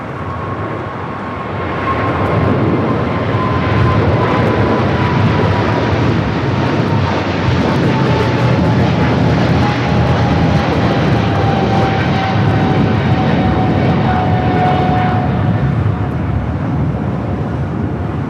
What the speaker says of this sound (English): the Turkish 777 now rolling down